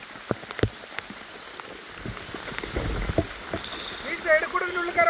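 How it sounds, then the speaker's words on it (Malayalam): Rain falls in a forest as a steady wash of drops, with scattered louder splashes and thuds close by and a few bird-like chirps near the end. "നല്ല മഴ കേട്ടോ."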